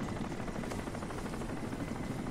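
Helicopter in the video game Crysis, a steady whirring rotor drone with faint rhythmic chopping that holds evenly throughout, moderately loud and continuous with no voices.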